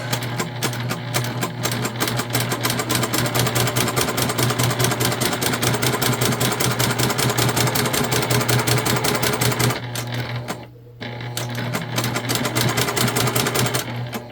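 Sewing machine stitching recycled fabric with a silky feel, a fast steady mechanical rattle running continuously near the mic, pausing briefly before resuming.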